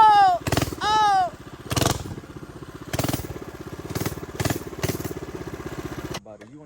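A mini bike engine runs close by, a rough, rapid low-pitched putter that rises in loud revving bursts and then settles, with people shouting and talking over it.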